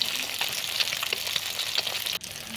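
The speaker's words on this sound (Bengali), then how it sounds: "নিয়ে গরম হয়ে যাবার পর মাছগুলো ছেড়ে দিলাম। মাছগুলো খুব একটা ভাজবো না, হালকা করে ভাজবো" Bata fish sizzle gently in hot mustard oil, a steady close crackle with small pops scattered throughout.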